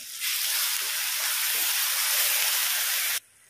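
Tomato paste hits hot oil in a pan for hotel-style chicken masala, bursting into a sudden loud, steady hissing sizzle that holds for about three seconds and then stops sharply.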